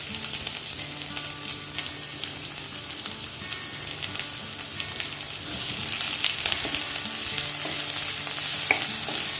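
Chopped garlic and a small onion frying lightly in oil in a pan, a steady close sizzle that continues throughout with occasional stirring.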